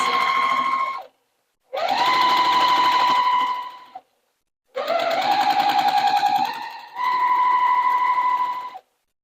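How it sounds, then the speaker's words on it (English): Sewing machine stitching quilt blocks together with a quarter-inch seam, running in four bursts of steady, close, buzzing stitching separated by short pauses. "Sewing with my 1/4 inch seam allowance."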